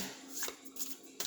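Tarot cards being shuffled and drawn by hand, a quiet close series of soft riffling flicks and snaps in short bursts.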